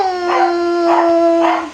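A pet dog waiting for its food whines and howls in three drawn-out, rising cries, close and fairly loud, with no one talking.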